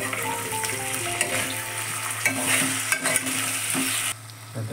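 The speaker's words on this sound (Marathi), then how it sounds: "चांगले मिक्स करून घेऊया" Stirring a sabudana khichdi mixture with salt in a pan, with soft scraping and light sizzling in a continuous rhythm, close and fairly quiet, without talk.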